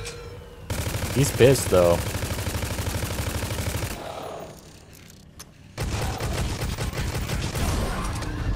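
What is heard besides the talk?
gunfire shooting enemy in Necromunda: Hired Gun video game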